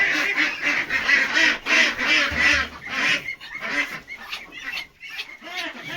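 A flock of ducks on a duck farm, including Khaki Campbells, quacks loudly and continuously in a noisy, overlapping chorus close by.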